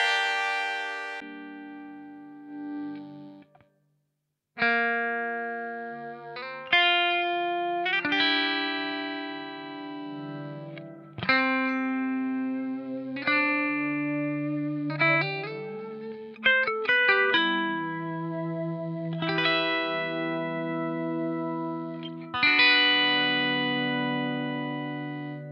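Boss RV-500 reverb pedal on its lo-fi setting, played with guitar chords that ring into a grainy, washed-out tail. After a short pause, a run of distinct picked notes and chords continues over steady reverb wash, with no voices.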